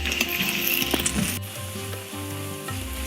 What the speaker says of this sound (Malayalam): ഇത് നല്ല ബ്രൗൺ നിറം ആകുന്നിടം വരെ നമ്മളിത് മൂപ്പിക്കണം